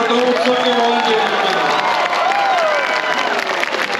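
A Diwali celebration crowd in Seattle claps and cheers loudly and steadily, with whoops and children's shouts rising over the dense applause throughout.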